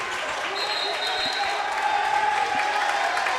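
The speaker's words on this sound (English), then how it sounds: "Listen to the crowd" A crowd in a high school gym roars and claps during a varsity boys basketball game, a loud steady din with whistle-like tones and faint ball bounces underneath.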